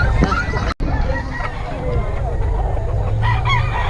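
A gamefowl stag rooster crows amid a busy, noisy gathering with background chatter, the crow emerging over constant crowd babble and occasional clucks.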